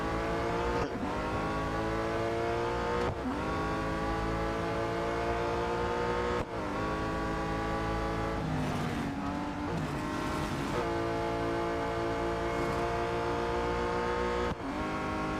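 Race car engines in the Real Racing 3 video game, a loud continuous high-revving whine that climbs and drops with gear changes, with brief tire squeals and no talking.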